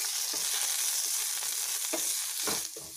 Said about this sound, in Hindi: दो मिनट इसे रोस्ट कर लेंगे